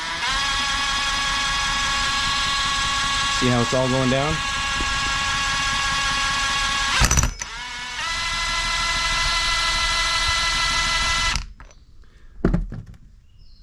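An impact driver spins a pump feeding transmission fluid into a Husqvarna mower, a steady high motor whine lasting about eleven seconds, broken by a brief clunk and followed by a short burst of talk.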